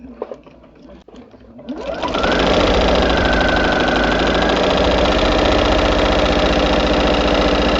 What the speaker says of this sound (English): I'm just going to sew a straight stitch from one end to the other